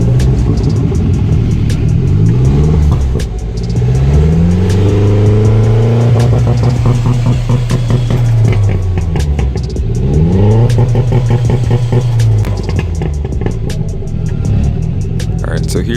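A turbocharged BMW E30 with an M42 engine on a dyno, tested with a two-step launch control. Loud, close repeated revs climb and fall over a constant rumbling idle, with bursts of popping between them.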